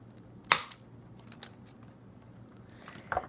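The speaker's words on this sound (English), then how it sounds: "I'm gonna take my hole punch and just hole punch it right at the edge of the" A hole punch snaps through the edge of a plastic straw in a sharp crisp click, followed by a second punch a few seconds later, quiet room between.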